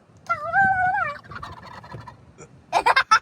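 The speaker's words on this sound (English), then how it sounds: "Hi, turkeys." Turkeys on a Florida golf course give a loud, warbling gobble up close, then a quick burst of several shorter gobbling notes a moment later.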